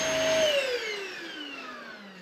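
A $150 vacuum cleaner from Temu winds down after being switched off, its loud whine sliding steadily lower in pitch and fading over about two seconds.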